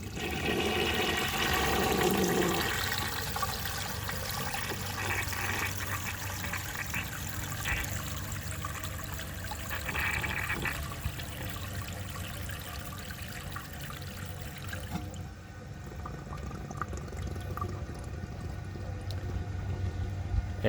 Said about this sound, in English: And yet again, another partially clogged flush.